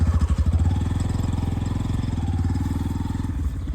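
A motorcycle engine runs close by in a farm field, its rapid steady firing pulses loud and even throughout, with no talk over it.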